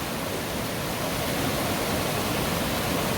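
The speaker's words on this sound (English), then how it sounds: "this river has so many little waterfalls on it" Steady rushing water pours continuously from a river with many small waterfalls and pools, a dense even roar with no other sounds.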